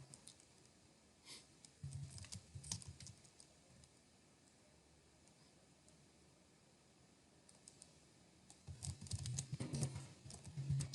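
An email address is typed on a computer keyboard. Faint bursts of rapid key clicks come near the start and again near the end, with a low, quiet room hum in between.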